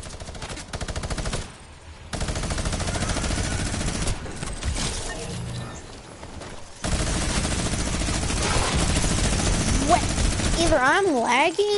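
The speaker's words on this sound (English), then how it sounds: "Someone's on the minigun." Rapid continuous minigun fire in the Roblox-style shooter Arsenal, long dense bursts broken by brief pauses, loud and close, with a voice talking over parts of it.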